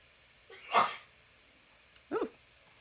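A person sneezes twice in a quiet room at a crafting table, a sharp loud sneeze followed about a second and a half later by a shorter, softer one.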